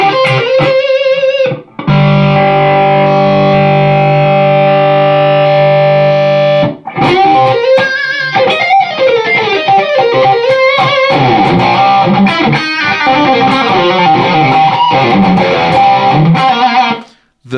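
Electric guitar played through a Line 6 Powercab 112 Plus speaker modeler set to its Cream model, with loud distorted sustained chords, a brief pause, then busy driven riffs and single-note lines, no talking.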